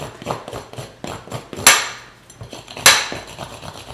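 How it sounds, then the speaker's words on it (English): A blade scrapes the thorns off a prickly pear cactus pad, making a series of short, close scratchy strokes with two sharper, louder knocks in the middle. "So what I do is I actually just kind of scrape them off a little bit"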